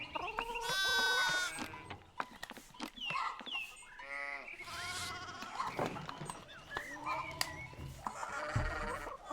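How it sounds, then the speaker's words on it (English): Sheep bleat in the medieval game Pentiment, several wavering calls layered among other farmyard animal cries and busy ambient sound, with no one talking over them. "More sheep"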